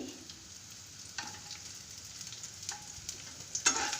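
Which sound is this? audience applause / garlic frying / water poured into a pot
garlic frying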